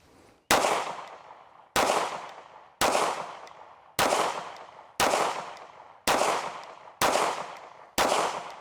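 Eight loud, sharp pistol shots from a Daniel Defense H9 firing 124 grain Nosler defensive ammunition, spaced about one second apart, each with a short decaying echo off the range.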